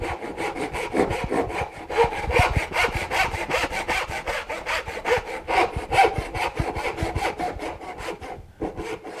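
Hand saw cutting a wooden dovetail joint with a workpiece held high in a vise, a steady run of rhythmic rasping strokes, close and fairly loud, with a short pause near the end before sawing resumes.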